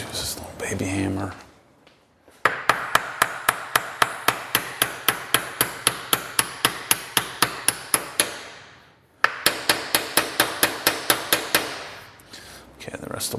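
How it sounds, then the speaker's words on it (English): A small hammer taps vise parts into place in a home garage, a rapid steady run of sharp metallic knocks with a short break partway, preceded by a brief voice. "Just use this little baby hammer."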